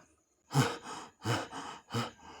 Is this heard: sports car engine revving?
no